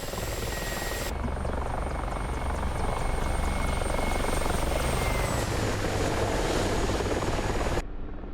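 A Mi-24P Hind helicopter in the DCS flight simulator: a steady rotor and turbine drone, loud and continuous, with a high whine that shifts pitch partway through before cutting off near the end.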